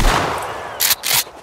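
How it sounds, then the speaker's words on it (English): A few loud shotgun blasts in the video game Sons of the Forest, two sharp bursts close together near the end after a quieter lead-in. "I would like to test out the shotgun towards you."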